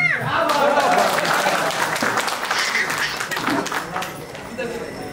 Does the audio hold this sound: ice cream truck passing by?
no